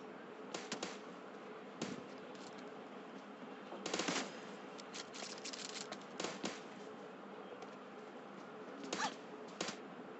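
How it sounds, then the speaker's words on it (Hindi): Gunfire in PUBG Mobile, heard as faint, scattered rapid shots and short bursts over a steady background hiss in the game audio. "भाई यार ये वेली जीजी का इतना अच्छा शॉट कैसे लगता है,"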